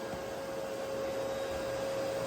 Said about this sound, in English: I definitely had to use a vacuum because the MDF, it just causes a lot of dust